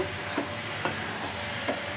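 Vegetable kadai being stirred in a pan after cream is added, a quiet continuous sizzle broken by three light scraping strokes of the spoon.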